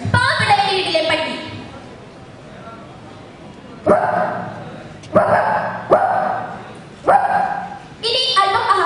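A schoolgirl at a mimicry competition on stage imitates the barking of a poor household's dog, giving sharp, loud yaps in separate bursts spaced a second or so apart, with a whimpering start.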